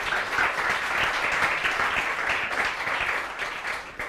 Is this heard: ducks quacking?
no